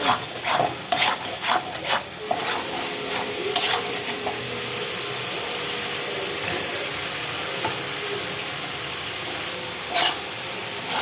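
Fish pieces fry in a spiced masala, hissing and sputtering steadily, with clattering stirring knocks near the start and occasional scrapes later.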